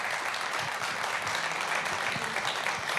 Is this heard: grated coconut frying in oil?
no